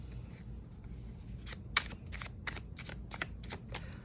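Tarot cards being shuffled and drawn, a run of crisp riffling bursts in quick rhythm after a quiet opening, close and clear over faint background hum.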